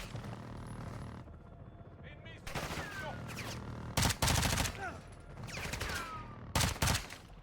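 Bursts of automatic gunfire from the Modern Warfare II video game, loud sustained volleys coming in several separate bursts over a battlefield background, with voices calling out between them.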